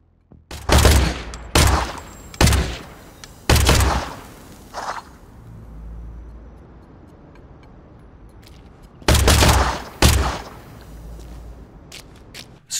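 Weapon fire from the video game Industria: a quick run of four loud, sharp shots, a quieter pop, a lull of low rumble, then two more heavy blasts close together.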